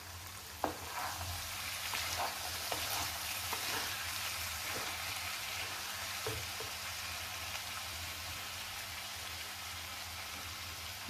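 Aloe vera and chana dal curry in a pan over a low flame, giving a soft, steady bubbling sizzle with a few light clicks from stirring, quiet and close with no voices.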